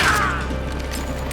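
Weapon reload in the Battlefield video game: a short burst of mechanical clicking and ratcheting, loud at the start and easing off, set over a steady low hum.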